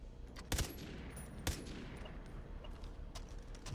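A gun in the video game Far Cry 3: Blood Dragon fires bullets, two sharp loud shots standing out above a steady rattling stream of quieter, faster fire.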